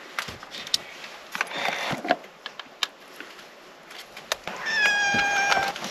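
A cat meows at a summer garden allotment, with a few short calls rising over faint background noise and light tapping, the clearest drawn-out meow near the end.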